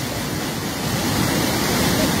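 Floodwater pours in through a broken embankment at Jalalabad, Habiganj, after two days of heavy rain, a steady, dense roar of rushing water that holds at constant loudness throughout without any break.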